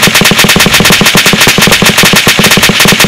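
Vehicle-mounted machine gun fired from the gunner seat in a military video game, a loud, close, unbroken stream of evenly spaced rapid shots hammering on throughout.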